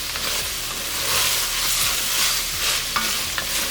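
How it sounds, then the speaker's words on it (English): Tomato paste cooking in a pan while being stirred, a loud, close sizzle with continuous scraping strokes of the utensil, no voices. "Just keep stirring as you are cooking the tomato paste"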